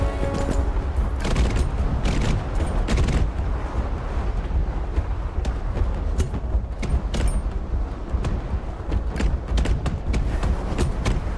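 Mortars fire in the online fantasy game Ashes of Creation, with repeated booming thuds and blasts scattered over a dense, busy backdrop of combat noise.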